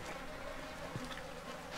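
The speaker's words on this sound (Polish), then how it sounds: "Tu jakieś same muchy latają." Flies buzz in the horror video game Outlast, a steady low insect drone that stays fairly faint and continuous throughout, with no talk over it.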